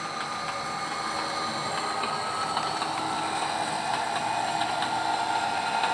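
Steady rumble and rhythmic clatter of a moving train in a video game, wheels ticking over rail joints with a continuous mechanical hum, no voices.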